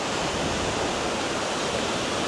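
Ocean waves on Boracay beach make a steady, loud broadband wash of surf, with wind blowing across the shore throughout.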